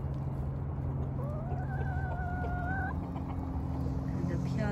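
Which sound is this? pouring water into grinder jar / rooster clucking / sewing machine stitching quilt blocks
rooster clucking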